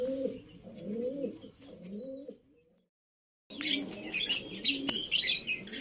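A rescued racing pigeon coos in low, rolling phrases up close, then after a short silence brighter chirps and higher bird calls take over, busy and fairly loud.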